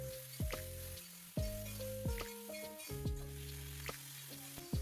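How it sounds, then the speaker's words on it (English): Chopped brinjals sautéing in sesame oil in a kadai, a constant close sizzle with repeated sharp tosses and clinks of the spatula against the pan at an uneven rhythm. "I tossed all the chopped brinjals and sauteed till they are softened nicely"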